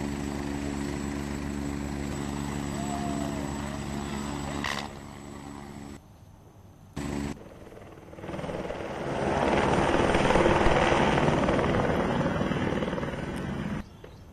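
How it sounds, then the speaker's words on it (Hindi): Helicopter at the Kedarnath Dham helipad: a steady, loud rotor and engine drone throughout, briefly dipping and cutting out midway, then swelling to a stronger, rougher roar as it powers up nearby. "हेलीकॉप्टर के पास ना जाने की चेतावनी भी दी गई है"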